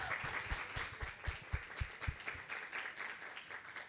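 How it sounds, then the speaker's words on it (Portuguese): Audience applause at a book fair talk, moderate and somewhat distant, with a few sharper individual claps standing out early before the clapping thins and fades. "Palmas."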